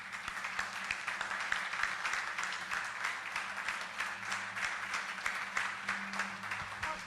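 Church congregation applauding steadily, a dense wash of many hands clapping at a moderate distance, continuous throughout with no voices standing out.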